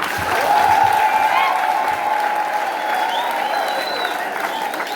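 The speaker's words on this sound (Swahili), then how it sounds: "Wapigie makofi." A church wedding congregation applauds the couple with a dense, sustained burst of clapping that swells at the start and then holds steady, loud and close, with some voices mixed in.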